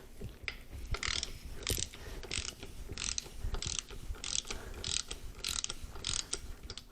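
A wrench ratchets on a nut on the 2.0T TSI engine of a 2009 Volkswagen Jetta during cylinder head removal, giving close, repeated bursts of clicking pawl strokes at a steady rhythm with no talk.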